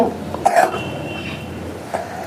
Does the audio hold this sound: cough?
yes